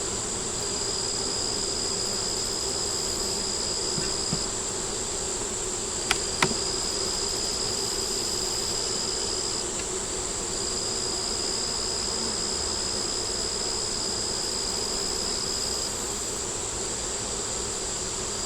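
A dense, steady hum of honeybees at an opened hive frame holding brood, larvae and eggs, drones on unbroken and close for the whole stretch, with a couple of faint clicks midway.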